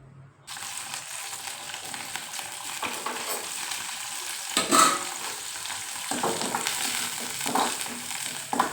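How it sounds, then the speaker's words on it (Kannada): Onion and curry leaves fry in hot oil as a tempering for chutney, giving a steady, close sizzle with a spoon stirring and scraping the pan. The sizzle flares up briefly a few times. "ಚಟ್ನಿಗೆ ಒಗ್ಗರಣೆ ಮಾಡ್ತಾವ್ರೆ"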